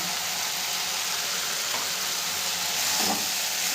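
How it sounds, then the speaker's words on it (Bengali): Winter vegetables and spices sautéing in a pan with salt for vegetarian khichuri with boiled rice: a continuous loud sizzle and hiss, with faint stirring scrapes close by, no talk. "নুনটা দিয়েও ভালো করে কষিয়ে নেব সবজিগুলোকে।"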